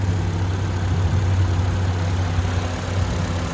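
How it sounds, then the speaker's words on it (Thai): A 2013 Ford Fiesta engine idles in a steady, even low rumble, loud and close, with constant vibration and no noticeable revving. "นี่เครื่องติดอยู่นะครับ"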